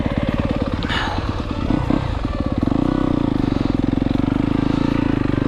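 A 2024 Yamaha YZ250FX dirt bike engine thrums close by, with a rapid pulsing beat that steadies and grows louder as the ride gets under way, and a brief clatter near the start.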